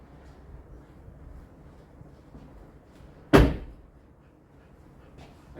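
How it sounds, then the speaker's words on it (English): A single solid thunk as the door of a Toyota LandCruiser 70 series shuts, sharp and close, with a short decay over quiet background. "Let's close the door."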